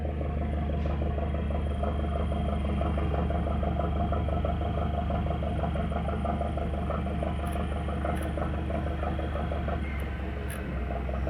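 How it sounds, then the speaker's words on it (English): Both engines of the boat Mary Ann Hepworth run at a steady, throbbing idle, a continuous low rumble with a fine rapid pulse that holds level throughout, with no one talking. "Both engines running."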